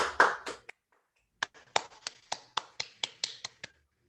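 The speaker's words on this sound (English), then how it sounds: "Please join us in a round of applause for them." A small group at a 2021 math awards ceremony claps for the winners after a brief spoken phrase: about a dozen distinct, crisp claps in a quick, uneven rhythm, close and clear against near silence.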